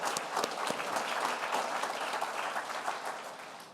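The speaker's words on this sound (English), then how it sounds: "I'd like for all of you to join me in a round of applause to thank the YMCA" Audience applause fills a hall at a YMCA during a city address, steady dense clapping throughout without speech.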